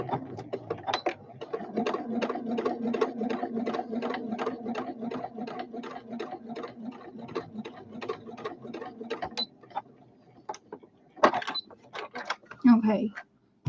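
A sewing machine stitches the top of a fabric pincushion in a steady, rapid run of needle strokes lasting about nine seconds. A few separate mechanical clicks follow near the end.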